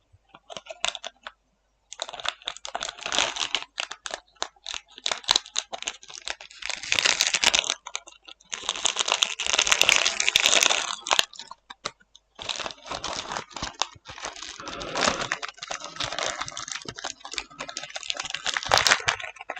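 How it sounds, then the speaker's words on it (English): A crinkly plastic pack of cookies is torn open up close, loud crackling and crunching bursts coming in irregular clusters with short quiet gaps, no voices. "Those noises you can hear at me trying to open a pack of cookies."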